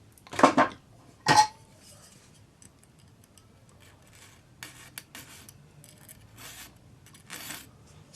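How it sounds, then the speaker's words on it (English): Sharp shears snipping a thin metal bezel strip for jewelry, two crisp metallic cuts close up near the start, then quieter scraping and handling sounds. "Cut it right on the line with your shears"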